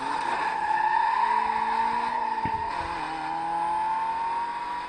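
A car in Need for Speed Most Wanted (2005) revs loud and steady, with engine pitch shifting through gear changes and a short tire squeal and skid in the middle.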